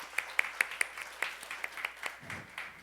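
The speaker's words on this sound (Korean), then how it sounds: "감사의 박수 하나님께 드립니다" A church youth congregation claps in thanks at a worship service, a sparse, fairly distinct run of individual claps in loose rhythm, quiet and slightly distant, with a soft low murmur near the end.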